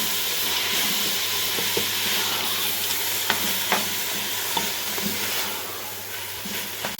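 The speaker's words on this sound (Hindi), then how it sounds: "इन सब चीज़ों को हमने अच्छी तरह से मिक्स कर लेना है" Carrot halwa with almonds, raisins and coconut sizzles steadily in a pan while a spoon stirs it, adding scattered scraping knocks over the constant frying hiss, close by and with no talk.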